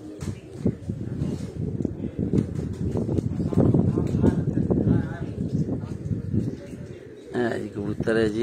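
Pigeons cooing from a rooftop, low repeated coos mixed into a busy outdoor scene with people talking over them throughout.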